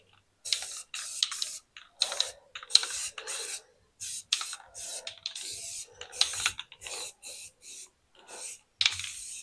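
A light coat of paint sprayed onto a 1945 International K3 truck comes as a string of short, hissing spray-gun bursts separated by brief pauses, close and fairly quiet.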